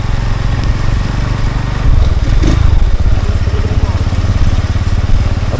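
A motorcycle engine and exhaust run in a flooded area of San Pablo City, Laguna, as a loud, close, rough idle with a low rumbling throb that swells briefly midway.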